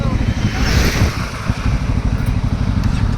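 A motorcycle cruises on a trip toward Ooty through Bandipur forest, its engine droning under heavy wind buffeting against the microphone.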